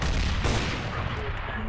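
Gunfire in the shooter game CS:GO, a quick burst of rapid shots at moderate loudness crowding the short moment, with no other sounds standing out.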